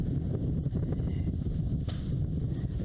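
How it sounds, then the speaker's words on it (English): Steady outdoor wind buffets the microphone, producing a continuous low rumble and roar throughout, with a brief gust swelling near the end. "Windy."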